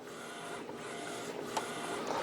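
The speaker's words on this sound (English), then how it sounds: "It's really a good printer." Epson Artisan 1430 inkjet printer running nearby, a steady low mechanical hum with soft clicks and brief whirring bursts as the print head moves, no voices.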